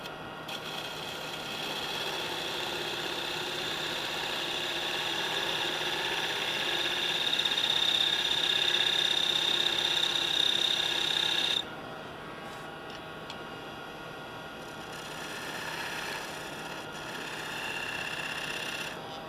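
A wood lathe spinning a workpiece while a spindle gouge cuts in, giving a steady whirring hum with a thin scraping whine, loud and continuous, which drops away and resumes more roughly near the end.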